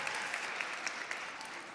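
Steady applause from a seated dinner audience at an awards event, dense and continuous with a few louder claps standing out, filling the whole stretch without any voices.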